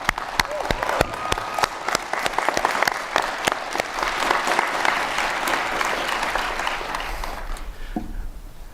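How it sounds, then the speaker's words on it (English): Audience applause at the 2021 Juniata College commencement: sharp, individual claps open into a full, sustained ovation from a large crowd, then thin out and die away near the end. "Could we give Oni a round of applause?"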